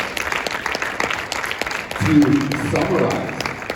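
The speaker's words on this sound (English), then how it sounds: "let's give them a round of applause" Brief applause from a conference panel audience, rising midway and continuing under a speaker's voice after a few seconds of talk.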